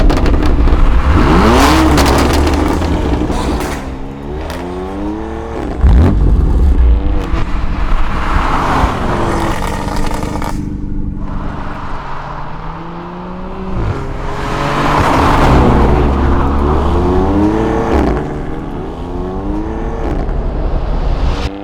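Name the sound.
Ford Raptor pickup truck engine revving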